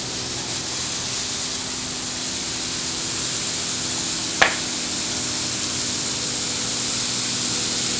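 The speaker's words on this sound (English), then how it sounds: "we're watering our ficus here, and we're just going to run this until we see it running out the bottom" Steady hiss of water spraying onto a ficus bonsai, running continuously at an even level, with one brief sharp click midway.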